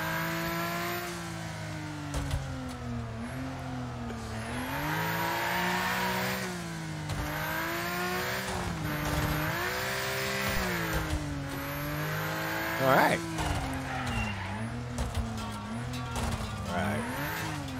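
A car engine in Wreckfest revs and rises and falls in pitch through repeated acceleration, with tires squealing and skidding around a turn; loud and continuous.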